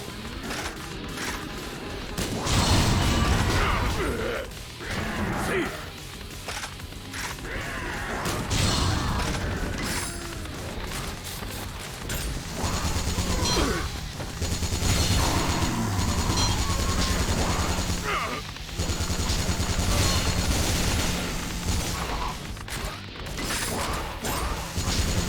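Grenade launcher firing and reloading in the zombie shooter Yakuza Dead Souls, with loud, busy mechanical clatter, crashing impacts and bursts of gunfire running steadily through the whole stretch with no talk.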